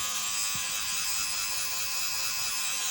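A Xiaomi Mijia electric lint remover runs against clothing with a steady, close whirring buzz that holds without a break from start to finish, its blades grinding faintly over the fabric.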